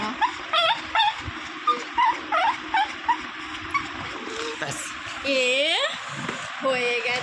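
Angel the dog whimpers and yelps in short high-pitched bursts while receiving a vaccination, with a longer whining cry near the end and people talking softly around it.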